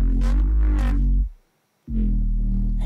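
Bass synth run through Shaper Table multi-band wave shaping with a second nonlinear filter, a loud gritty harmonic tone playing alone, cutting out for about half a second before returning.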